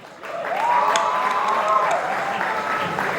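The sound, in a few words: audience applause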